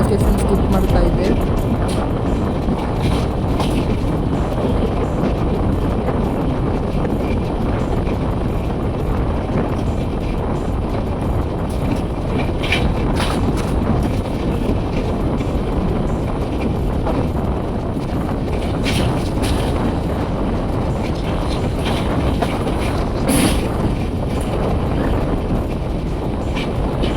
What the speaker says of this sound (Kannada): ನಮ್ಮ ಟ್ರೈನ್ ಇವಾಗ ಇಲ್ಲೊಂದು ಸ್ಟೇಷನ್ ಸ್ಕಿಪ್ ಮಾಡ್ತಾ ಇದೆ